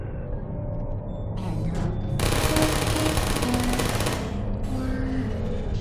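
Turret gunfire in the Portal video game erupts as one loud, rapid burst lasting about two seconds amid softer game ambience, then fades back to quiet background tones.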